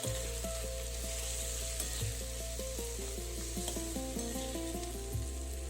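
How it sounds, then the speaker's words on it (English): Beans and other vegetables sizzle steadily in a hot pan for a traditional bean sabji, with a constant frying hiss and occasional soft scraping from continuous stirring; a low hum runs underneath and no one speaks. "Do not let the ingredients stick to the pan, therefore, keep stirring continuously"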